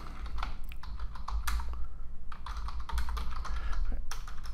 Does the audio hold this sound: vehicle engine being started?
no